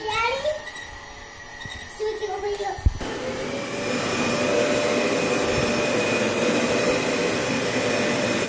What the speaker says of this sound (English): There's vacuums everywhere.